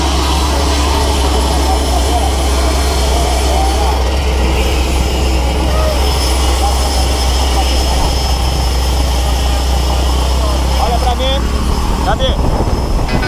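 A skydiving airplane's engine drones loud and steady in flight inside the cabin, a constant low roar under people talking.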